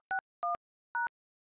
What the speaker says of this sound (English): Now enter your 5-digit passcode.